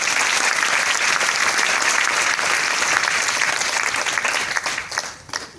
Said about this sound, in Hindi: आए हुए अतिथिगण से अनुरोध करती हूँ कि तालियों से आपका अभिनंदन करें